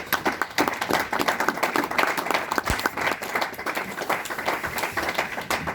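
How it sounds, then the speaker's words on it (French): A congregation in a French church claps and applauds on a Sunday, dense irregular hand claps filling the room at a steady loud level throughout. "On acclame pour la parole."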